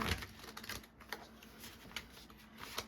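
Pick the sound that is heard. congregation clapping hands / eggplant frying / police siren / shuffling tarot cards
shuffling tarot cards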